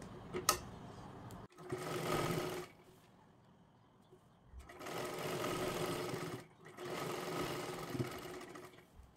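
Two sustained bursts of a sewing machine running a straight seam on a blouse, separated by a quiet pause, with a short whir at the start.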